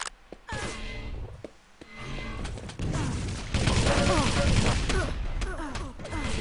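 Rocket launcher fire and explosions in a Quake Live team deathmatch, with dense repeated blasts and clanking game effects building in loudness, and a commentator talking over the action.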